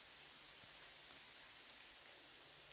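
Steady rain falls on trees in a forest in bear country, a continuous soft broadband hiss heard from beneath the canopy, quiet and even throughout with no voices.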